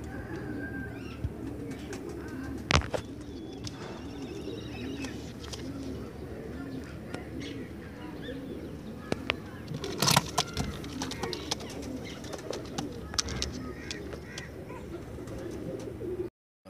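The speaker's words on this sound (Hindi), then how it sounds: "बहुत अच्छा कबूतर है" Pigeons coo in soft repeated low bursts at a busy outdoor pigeon market in Multan, with scattered clicks and wing flutters and talk in the background.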